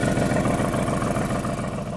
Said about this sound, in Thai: เสียงท่อนี่ขนาดรอบเดินเบานะนี่ครับ